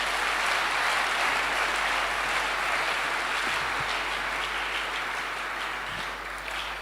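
A church congregation applauds during a sermon, dense steady clapping that holds for the whole stretch and eases slightly toward the end.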